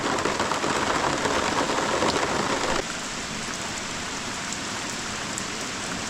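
Steady rain falls in Estonia as a dense, loud hiss of drops pattering on surfaces, close and continuous, then drops abruptly to a softer, even wash partway through, with no one speaking.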